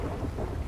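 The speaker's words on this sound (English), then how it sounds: "I know, I'm actually kind of enjoying this thunder." Low rumbling thunder from a video-game storm in The WorldZ End RP, a short dense roll mixed with rain noise, fairly loud and with no voices.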